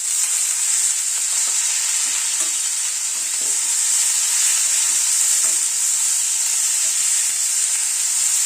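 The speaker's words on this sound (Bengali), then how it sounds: "ক্যাপসিকামটা দিয়ে একটু নাড়াচাড়া করছি।" Capsicum and potato stir-fried in a pan with salt, turmeric, black cumin, fenugreek and garlic, a loud steady hiss of sizzling oil with faint scraping stirs throughout.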